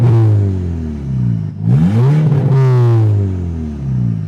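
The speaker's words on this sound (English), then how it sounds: "Everything's rattling. It sounds like aluminum cans, but there are some pops" A 2012 VW Golf R MK6 with its exhaust removed revs loudly up close, a raw droning engine note that dips and rises again with rattling clatter and a few sharp pops, no talking.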